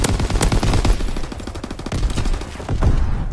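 Rapid suppressing machine-gun fire in the WWII shooter Call of Duty WWII, sustained bursts of close, loud automatic shots with a few louder cracks.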